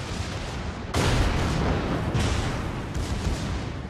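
Naval gunfire and a battleship explosion in World of Warships, a heavy, loud roaring blast that starts abruptly and rumbles on, with a second surge of booming near the end.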